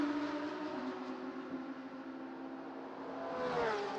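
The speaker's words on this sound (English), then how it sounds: "Got some excitement for the sounds of the cars." Race cars at the Motul 12 Hours of Sepang circuit drone steadily at a distance, a sustained engine whine that swells near the end as a car passes closer, with no voices.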